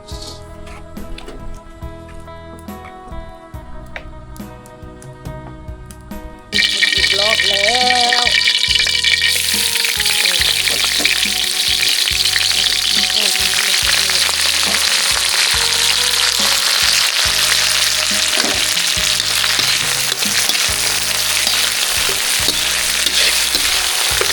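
Loud, steady sizzling of leaves and meat frying together in a hot pan, starting abruptly after a quieter stretch of kitchen clatter and continuing with occasional stirring scrapes.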